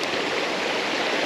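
A mountain creek rushes steadily over rocks, a close, continuous broadband wash of flowing water with no voices.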